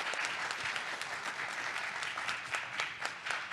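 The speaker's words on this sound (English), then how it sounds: "can we give her another round of applause, please?" Sustained audience applause at a talk on the Kansas anti-abortion amendment, dense clapping from a crowd at an even level throughout, with no voices over it.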